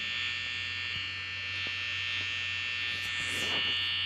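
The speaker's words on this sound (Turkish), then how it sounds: "Şu vantilatörü kapatsak var ya aslında oyuna pil bitmez ama" An electric fan in the security office of Five Nights at Freddy's hums steadily, a constant electrical drone with a faint buzzing edge that stays level and unbroken, with a few faint soft clicks over it.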